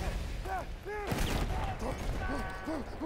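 Gunfire in a Battlefield 1 match: a burst of rapid, overlapping shots near the middle sits among steady battle noise, with rising and falling tonal whoops recurring throughout.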